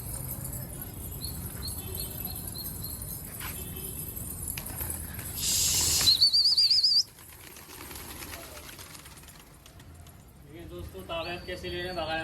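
A brief burst of wing flaps as a pigeon takes off, loud and close, amid steady outdoor background noise and some chirping.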